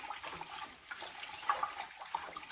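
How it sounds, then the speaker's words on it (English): Tap water runs into a bowl of sushi rice for rinsing, making a faint, uneven splashing and trickling that comes from close by. "Let's put some water in there."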